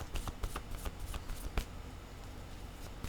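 Oracle cards are shuffled and drawn by hand, giving a rapid run of soft papery flicks and riffles that thins into quieter rustling, close and fairly faint, with no talk.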